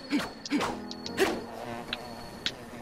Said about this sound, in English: Get the fuck away from me, bees.